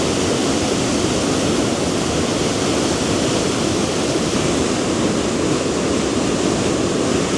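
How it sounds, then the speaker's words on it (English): Fast river in Glen Etive rushing hard over rocks, a loud, steady, close roar of broadband water noise with no letup and no voices. "the river's running really well, so there's a lot of water"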